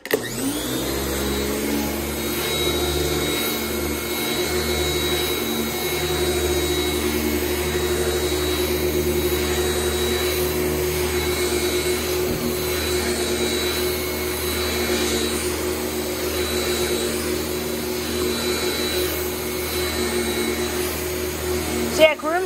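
An Eureka Empress vacuum cleaner runs continuously with a loud, steady motor whine and drone, heard up close from start to finish.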